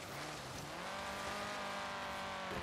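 Car drifting through a corner in the racing game Forza Horizon 3, with a sustained engine drone and a rising, wavering tire squeal across the whole short stretch.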